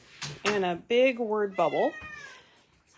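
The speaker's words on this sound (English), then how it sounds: "Pardon the cat, she wants to chat with us today" A pet cat meows repeatedly and close by, several drawn-out, wavering meows in quick succession, while someone speaks briefly at the start.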